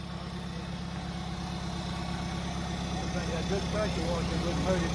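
An old International Cub tractor engine idles with a steady low throb, fairly quiet and even throughout, with no one speaking over it.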